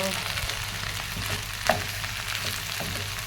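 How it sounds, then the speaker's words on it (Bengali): Bitter gourd frying in a pan with very little oil, giving a continuous close crackling sizzle with a brief sharper tap partway through, no voices. "একদম অনেক কম তেলে করলাটা ভাজা শেষ করলাম।"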